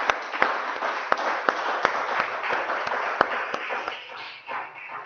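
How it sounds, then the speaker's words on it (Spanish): A church congregation claps together in a steady stream of sharp, irregular hand claps, close and fairly loud, that fades slightly toward the end with no talk over it. "vamos a darle un aplauso fuerte al Espíritu de Dios"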